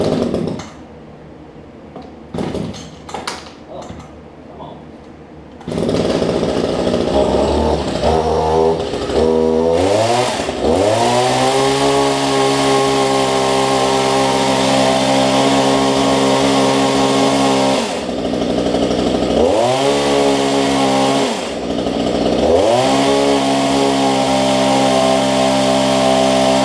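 Echo HC1500 gas hedge trimmer with a replaced carburetor, sputtering through a few weak pull attempts, then catching and running loud and close, revving up and dropping back several times in a sustained buzzing roar.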